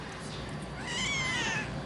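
A tiny, weak, dehydrated kitten gives a thin, rising meow, one short cry near the middle over a faint room hum, with no clear talk alongside.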